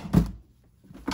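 A refrigerator drawer holding pepperoni and cheese slides open in a kitchen, heard as two short, fairly close bumps or scrapes separated by a brief quiet gap, with no talking.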